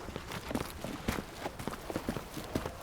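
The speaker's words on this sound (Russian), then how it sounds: "А здесь он идет по мелкому гравию." A game character walks across fine gravel in an interactive audio demo for A Song of Ice & Cardboard, giving a steady run of soft, crunchy footsteps at moderate level with no talking.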